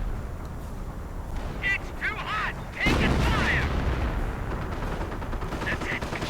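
Gunfire, machine-gun bursts and artillery booms from a World War II strategy video game, a sudden heavy blast over a dense battle din, with whistling shells and a commentator talking throughout.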